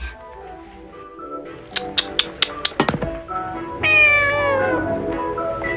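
A cat in the 1987 animated film Lily C.A.T. gives a drawn-out meow near the end, close and clear, after a run of sharp clicks and taps.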